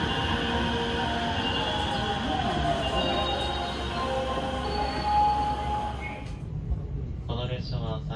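A Sanyo Line local train between Hiroshima and Iwakuni runs with a steady low rumble and rolling wheel noise, loud and close from inside, easing toward the end as a voice speaks.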